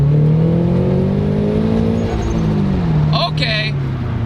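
A turbocharged Subaru BRZ pulls hard in second gear, its engine note droning steadily and rising in pitch, heard from inside the car with people talking over it.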